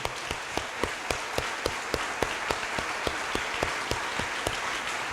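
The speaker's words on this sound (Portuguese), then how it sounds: "Clap your hands and praise" A church congregation claps in praise for Jesus during a worship service, giving steady rhythmic clapping in a regular, evenly spaced beat over a continuous bed of crowd noise, loud and close.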